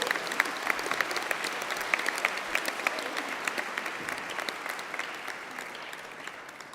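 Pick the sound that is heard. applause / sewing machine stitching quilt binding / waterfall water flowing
applause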